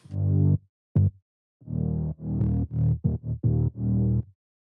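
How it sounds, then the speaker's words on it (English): A synth bass layer made in Sylenth from saw waves with eight-voice unison plays a short rhythmic pattern of buzzy, thick notes, loud and alone, with clean silences between the stabs. "that one is made in Silent and it sounds like this"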